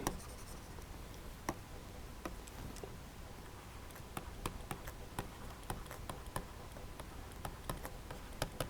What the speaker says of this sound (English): So let me write it in purple so it's clear.